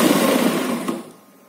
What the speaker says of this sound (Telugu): ఇంకొకటి ఇక్కడ మిడిల్ లో కూడా ఒక స్టిచ్ వేసుకోవాలి